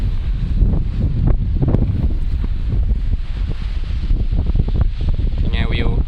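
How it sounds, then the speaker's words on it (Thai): Strong wind sweeps across the hill road up to Khao Khi Kut reservoir in Thailand, roaring and buffeting the microphone continuously and loudly, with rustling and a faint engine-like hum. "ตอนนี้ลมแรงมาก"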